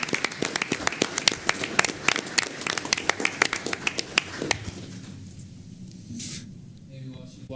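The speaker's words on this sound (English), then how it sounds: "if we could give Shelley a round of applause" A room full of people at a Spanish Fork city council meeting claps for Shelley: dense, steady applause for about four seconds that then stops, leaving quieter room noise and a voice speaking.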